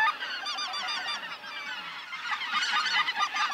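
A flock of geese honks overhead during an Alberta goose hunt, a dense, continuous chorus of overlapping calls that swells louder toward the end, with no talking.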